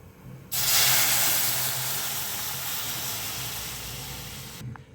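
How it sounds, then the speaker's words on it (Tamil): Milk pours into roasted maida flour in a hot pan and sets off a loud, sudden hiss that stays steady for several seconds before cutting off. "இந்த டைமில் நம்ம பால் சேர்த்துக்கலாம்"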